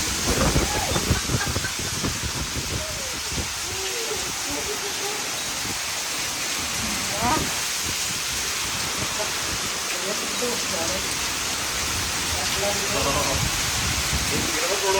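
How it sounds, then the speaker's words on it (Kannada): Heavy evening rain falls in a steady, dense hiss that carries on throughout, with brief faint voices in the background. "ಸಂಜೆಗೆ ಮಸ್ತ್ ಮಳೆ ಹೊಡಿಯುತ್ತೆ"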